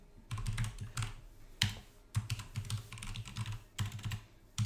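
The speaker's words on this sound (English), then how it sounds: "I can see you typing" Rapid clacking of computer keyboard keys in uneven bursts with short pauses, fairly close and clear, no voices.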